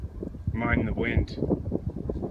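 Outdoor wind buffets the microphone in low, rumbling gusts that rise and fall across the moment, mixed with someone speaking.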